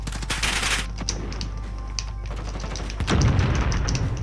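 Gunfire from a Grau rifle in Call of Duty Modern Warfare: rapid automatic bursts of shots, loud and close, repeating over a steady game background with a heavier blast near the end.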